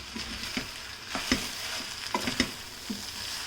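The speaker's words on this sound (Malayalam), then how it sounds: "ഇനി ഇതിലേക്ക് ഞാനിവിടെ റെഡും യെല്ലോയും ക്യാപ്സിക്കം ചേർത്ത് കൊടുക്കുകയാണ്." Red and yellow capsicum frying in a pan for spaghetti, with a steady sizzle under sharp, irregular clicks and scrapes of a spoon stirring the peppers, close and clear.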